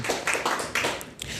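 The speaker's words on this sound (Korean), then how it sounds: "하나님께 영광의 박수 돌리겠습니다." A church congregation at a Friday prayer meeting claps together in a short, steady burst of close, moderately loud hand claps.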